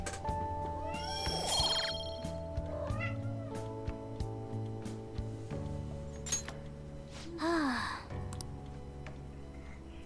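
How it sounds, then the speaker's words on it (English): A cat in the Persona 5 Royal video game meows repeatedly while being petted, with several clear, close meows over light game music. "It is not easy to pet a cat and play at the same time"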